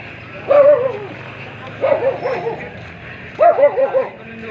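A dog barks in three short bursts of yips, each a quick cluster of high barks separated by pauses, fairly close over a low background hum.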